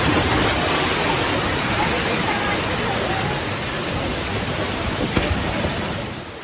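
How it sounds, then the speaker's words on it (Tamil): Heavy rain and floodwater rushing through a low-lying residential area in Mumbai, a steady dense roar that stays loud and even throughout with no break, fading slightly at the end. "அருகே இருந்த தாழ்வான குடியிருப்பு பகுதியில் தண்ணீர் வெள்ளம் போல பாய்ந்த காட்சி"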